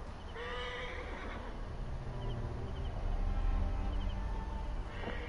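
A horse neighs twice in a video game, a loud whinny near the start and another at the end, with hoofbeats and a low background rumble between.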